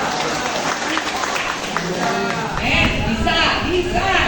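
A church congregation claps and cheers together during a worship service, a dense burst of applause mixed with voices, loud and sustained throughout.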